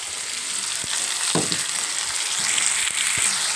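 Tomatoes and onions fry in a hot pan with a bright, continuous sizzle up close, broken by a few soft stirring knocks and scrapes, with no talking.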